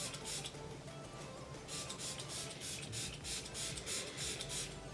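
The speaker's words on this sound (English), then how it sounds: "it is a really fine mist" A beauty product bottle sprays a fine mist in a quick series of soft, hissy bursts, fairly quiet and close, with no talking.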